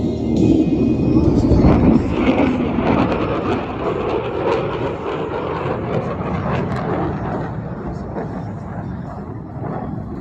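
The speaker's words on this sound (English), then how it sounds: "the F-35 demonstration team proudly presents the dedication pass" An F-35 fighter jet flies a dedication pass at an Air National Guard base airshow. A loud, broad roar is strongest at the start and then eases into a sustained rumble that slowly fades.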